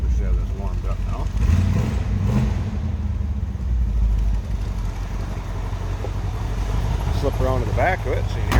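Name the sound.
1965 Ford Mustang 289 4-barrel engine idling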